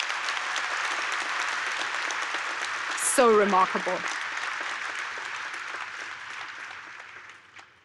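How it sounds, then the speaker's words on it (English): Audience applause at a university graduation ceremony, continuous clapping throughout with a brief spoken remark near the middle, gradually fading toward the end. "can we just give a round of applause to the families here today?"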